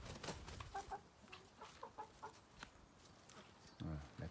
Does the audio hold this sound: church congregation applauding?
no